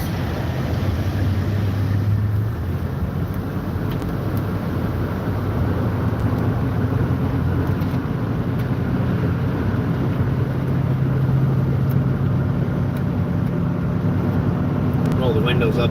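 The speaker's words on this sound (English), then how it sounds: "It might get a little noisy because I got to have the windows down because the AC does not work in this minivan." A minivan cruising down a highway with its windows down, giving a steady, loud rush of wind and road roar that continues without a break throughout, with no talking over it.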